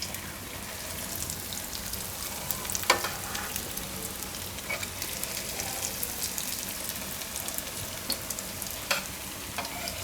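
Bread aloo tikki patties fry on a flat griddle with a steady, soft sizzle and crackle, and a few light scrapes and taps come as a spatula turns them; no voices.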